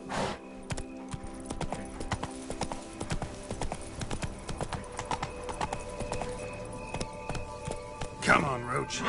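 Roach, a horse in The Witcher 3: Wild Hunt's Blood and Wine expansion, galloping with rapid, rhythmic hoofbeats, then a close snorting whinny near the end.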